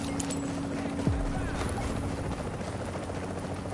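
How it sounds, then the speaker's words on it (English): Helicopter in the video game The Division, a steady low rotor drone running under dense game noise throughout, with a brief gliding tone near the start. "You hear the helicopter?"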